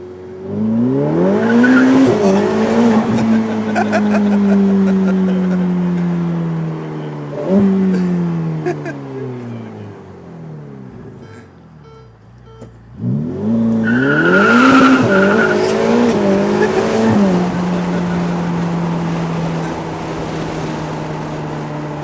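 A Ferrari with traction control switched off launches hard in first gear, tires squealing as the engine revs climb loudly, then a brief lull before a second surging, roaring acceleration.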